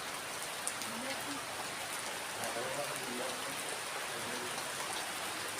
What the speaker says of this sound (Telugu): వర్షం చాలా గట్టిగా వస్తుంది